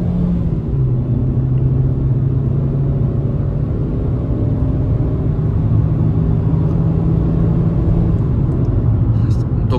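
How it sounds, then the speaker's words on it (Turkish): Hyundai i20 with a 1.4 MPI engine accelerating at full throttle, a steady droning engine note climbing slowly under continuous road rumble from inside the cabin. "Şu an dip gazım mesela."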